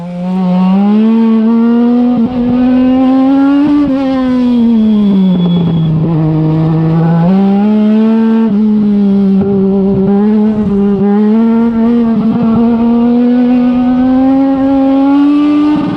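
A small race car's engine holds high revs at the end of a timed run, droning loud and close with a strong steady tone that wavers and dips slightly as it bounces on the rev limiter, with no talking.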